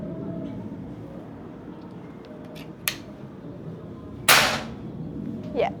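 One loud, abrupt report from a Predator OD 38 V2 PCP air rifle, set apart by a few faint clicks before and a short ringing tail after, in an otherwise quiet setting.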